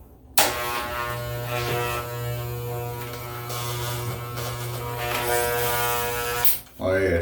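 Electric hair clippers with a number 2 quarter-inch guard buzz steadily through a fade cut, a close, continuous hum with slight changes as they move, stopping briefly near the end.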